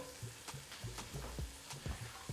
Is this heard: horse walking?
no